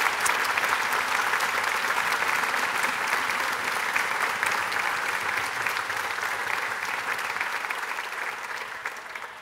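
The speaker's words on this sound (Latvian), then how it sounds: "Sirsnīgi aplausi viņiem." Sustained applause from a large crowd in a concert hall during a song festival church service, dense steady clapping that fills the whole stretch and tapers slightly toward the end.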